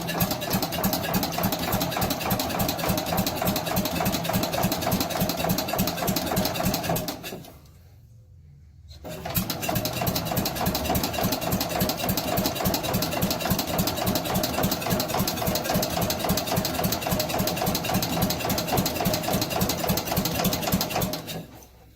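An Allis Chalmers Big Ten tractor engine, started without its carburetor, runs loud and steady in a fast rhythmic chatter, cuts out for about a second, then picks back up and keeps running at the same even pace.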